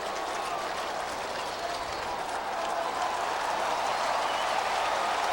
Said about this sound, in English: Alabama applauds.